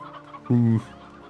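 Candied hens in the game Slime Rancher 2 give a single short, clear cluck, heard alone over a faint background hum.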